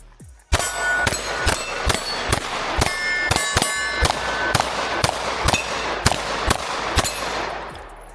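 A Shield X pistol with a 15-round magazine fires a rapid string of about a dozen sharp, loud shots at an outdoor range. Each shot rings with a metallic clang and echo.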